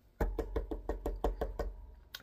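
Eight firm knocks on a door in a steady, evenly spaced rhythm, close and fairly loud, followed by a final softer tap.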